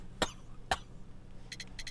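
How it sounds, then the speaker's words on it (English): A man in the Sherlock Holmes: The Devil's Daughter video game coughs twice, two sharp close bursts about half a second apart, followed by faint shuffling or clicking sounds against quiet room noise. "You have a severe cough."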